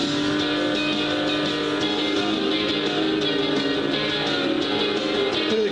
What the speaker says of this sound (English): This is like beach buggy racing or something like that